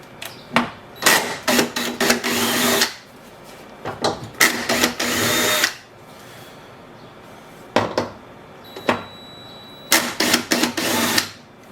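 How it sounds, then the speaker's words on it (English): A 10mm socket on a ratchet or power driver backs bolts out of the rear passenger door while replacing a window regulator, in close, loud bursts of whirring and rattling separated by short pauses. "I'm going to take these bolts out. This is a 10mm socket."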